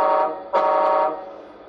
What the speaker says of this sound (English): gives you the air horn